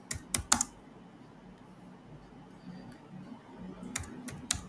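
Keys on a computer keyboard clatter in quick bursts while an SQL query is typed, with sharp clusters of clicks at the start and end and quieter typing between, close and fairly faint.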